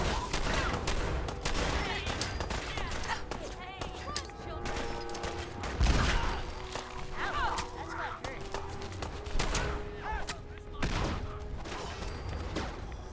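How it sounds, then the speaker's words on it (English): Fallout 4 combat with a shotgun in play, with heavy gunfire bursts and scattered shots layered over busy mechanical clatter, and a voice talking throughout. "Whatever, we'll stick with the shotgun."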